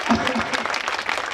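Audience applause at a 2017 theatre festival memorial event, dense clapping from a crowd with a voice speaking over it.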